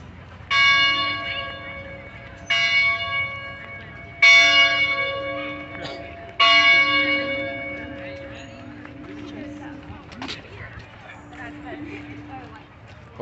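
A church bell rings out at the University of Georgia in Athens, four loud resonant strikes whose tones hang and fade, over steady outdoor crowd noise and hoofbeat-like clatter.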